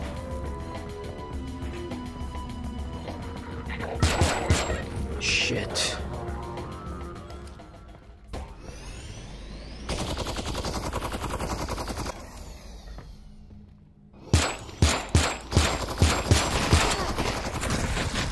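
Gunfire in the Half-Life: Alyx VR game mod, with bursts of rapid shots and single cracks spread across the stretch, loud and close, with people talking between the volleys.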